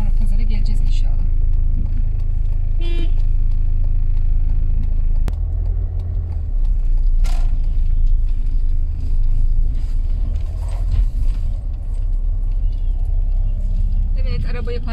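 A car rolls into a car park near the historic Tuesday market, its engine rumbling low and steady throughout, with rustling and brief clicks over the top and some background voices.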